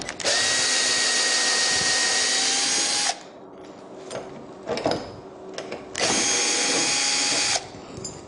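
A power drill whines loudly at high speed through two drilling bursts of about three and one and a half seconds, separated by a pause of clicks, knocks and handling noise, close by with no talking.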